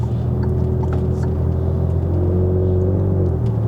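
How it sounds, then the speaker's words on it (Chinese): A Proton X50 fitted with an aftermarket muffler drones steadily with a low, even exhaust rumble while driving, heard from inside the cabin with no talking. "换了 muffler， 那声音觉得果然是不一样去啊。"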